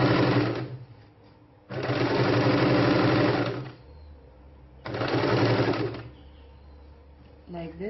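Sewing machine stitching the border of an apple cut kurti, running in three loud close bursts separated by pauses with a low hum between.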